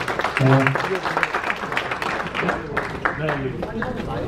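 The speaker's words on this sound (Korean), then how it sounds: "다시 한번 뜨거 박수 부탁드리겠습니다" Scattered applause from a crowd at a golf tournament award ceremony under someone speaking over a loudspeaker, with voices throughout.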